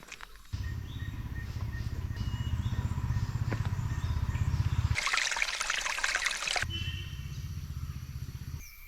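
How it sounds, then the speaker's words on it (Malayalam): A small rocky forest stream with little water trickles steadily and close by, with a brighter splashing burst midway, on a forest route at Mamalakandam. "ഇതൊരു അരുവി കേട്ടോ കട്ടരുവി വെള്ളം കുറവാണ്"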